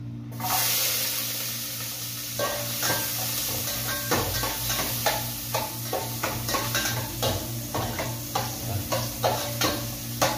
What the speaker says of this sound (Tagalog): Iuna natin laglag yung bawang guys.